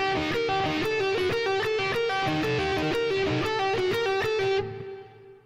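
A bluesy electric guitar lick variation in a higher position, quick bends and picked notes running busily for about four seconds, then ringing out and fading, with no voice.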